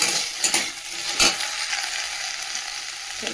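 Cut okra and lightly fried potatoes sizzle in a pan, a steady close hiss broken by a few sharp scraping stir strokes of a spatula against the metal.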